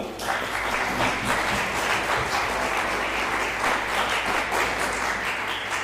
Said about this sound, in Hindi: तालियां बजाकर धन्यवाद।